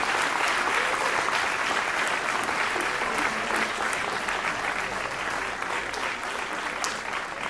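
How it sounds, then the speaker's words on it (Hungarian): A large audience at a school student gala applauds a teacher coming up on stage, dense, even clapping sustained for several seconds without a break. "Szeretnék kérni neki egy nagy tapsot"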